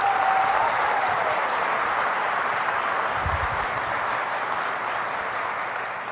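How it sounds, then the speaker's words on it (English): A large crowd applauds Matthew Broderick with dense, steady clapping that holds at an even level throughout, forming a continuous wash of sound. "one more round of applause for Matthew Broderick"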